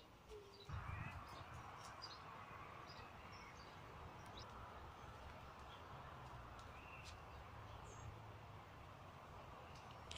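Birds call in Victoria Park, Waterloo, Liverpool, with scattered faint, distant chirps and brief calls over a steady outdoor background hum.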